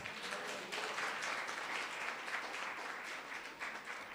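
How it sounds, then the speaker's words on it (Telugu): A church congregation claps and applauds together, a faint, steady patter of many hands heard from a distance with no talking over it. "చప్పట్లు కొడదాం."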